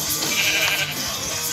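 Sheep bleating in the Minecraft video game, a steady game sound running through the short moment with no talking.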